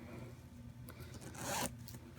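A zipper on a reversible sequin pillow cover pulled in one quick rasping zip near the end, close and quiet, no talk.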